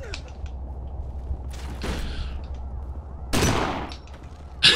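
Shotgun blasts in Kane and Lynch 2 boom out a few times, each a harsh burst with a short decay, over a steady rumbling game background.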